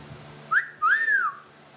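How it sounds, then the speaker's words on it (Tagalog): A person whistles two clear notes close by: a short rising chirp, then a longer arching tone that slides up and falls away, with quiet surroundings. "Sipol tayo."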